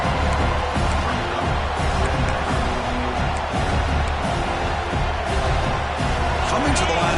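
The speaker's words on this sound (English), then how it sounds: "This crowd is trying to inspire this defense to make a big red zone stop." A packed stadium crowd at an Auburn vs Alabama college football game roars loudly and steadily as the defense faces a red zone stand. A voice can be heard over the dense wash of noise.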